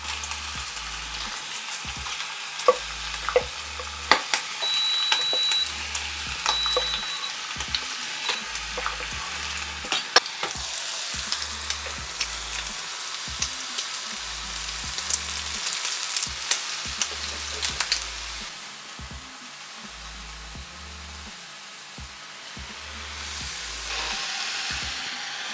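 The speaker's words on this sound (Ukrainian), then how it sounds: "Поки бекон з грибами смажиться" Bacon and mushrooms fry in a pan, giving a loud, steady sizzle with crackling pops and stirring scrapes, softening toward the end.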